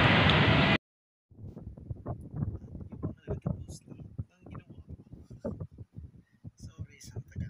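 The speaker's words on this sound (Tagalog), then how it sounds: "At nararamdaman ko na lumalakas yung hangin." Strong outdoor wind roars loudly across the microphone in a short burst at the start, then cuts off as someone talks steadily over quiet surroundings.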